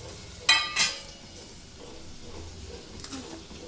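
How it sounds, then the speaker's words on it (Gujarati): Green peas and boiled potatoes are stirred into cooked tomatoes in a pan for pulav, with two sharp clatters of the spoon near the start, then a soft sizzle and light scraping that fade to a quiet simmer. "ત્યારબાદ એની અંદર લીલા વટાણા બાફેલા બટાકા એડ કરી દઈશું, મિક્સ કરી દઈશું"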